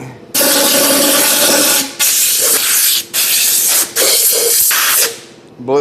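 Compressed air blasting out a part on a shop bench, loud close hissing bursts, several long blasts broken by brief gaps, with no talking during the blasts.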